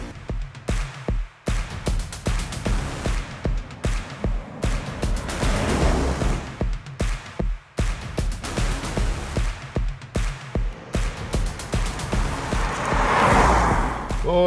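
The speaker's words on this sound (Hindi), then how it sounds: "तो चलिए दोस्तों, इस वेलार की ड्राइव की हमने शुरुआत कर दी है" A petrol Range Rover Velar pulling away and driving, heard from inside the cabin as a steady engine and road rumble with brief dips. The whooshing rises toward the end.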